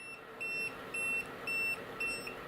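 A Tacklife VT02 voltage detector pen beeps in a steady, quick rhythm, with four or five short high-pitched electronic tones evenly spaced, close by, with no talking.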